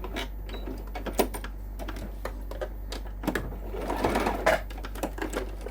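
A sewing machine makes a quick back stitch on fabric binding, with soft mechanical ticks and a short, faint whirring run of stitching near the end, close up and without talk.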